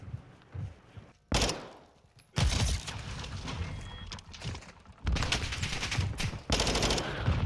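Loud automatic gunfire bursts in a first-person shooter match, several sustained volleys separated by brief gaps, close and dominant, with heavier rattling sprays near the end.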